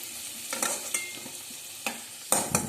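Potatoes frying in hot oil left over from frying chital fish are stirred, giving soft intermittent scrapes and clinks over a low, steady sizzle.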